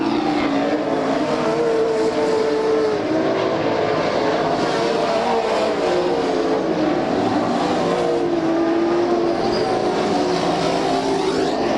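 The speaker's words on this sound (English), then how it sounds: "Greg Clark running third. Now being reeled in by the 86 car, Chad Reichenbach." Race cars roar around the Bakersfield, California track during a 1995 Budweiser Racing Series event, a loud continuous engine drone with shifting pitch as cars pass and accelerate, heard without talk.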